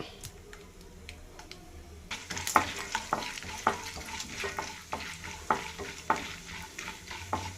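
Mustard seeds, cumin, urad and chana dal and onion fry in hot oil, a steady close sizzle building sharply partway through, broken by repeated crackles and scraping stirs in an uneven rhythm.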